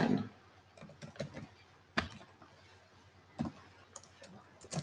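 Mouse clicks from navigating a ZKAccess 3.5 software installation on a computer, several sharp close clicks spaced irregularly over a quiet background, with one stronger click in the middle and faint voice traces.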